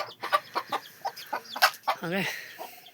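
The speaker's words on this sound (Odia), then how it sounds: "ଏଇଠି ରୋଷେଇ ଭିତରେ କଣ କୁକୁଡ଼ା ଫୁକୁଡ଼ା ସବୁ ଅଛନ୍ତି ଏଠି।" Chickens clucking inside a village kitchen, several short close calls in an uneven rhythm, with a longer warbling cackle toward the end.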